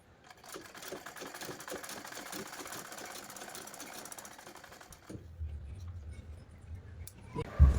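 A sewing machine stitches pleats into a blouse, running in a steady, fast mechanical rattle for about five seconds, then stopping and leaving a low hum and faint handling noises.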